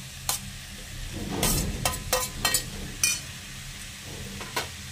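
Leftover cooked rice mixture with raw mango pieces being sautéed in a pan: scattered scraping stir strokes and light sizzling, close by and moderately quiet, with no talking.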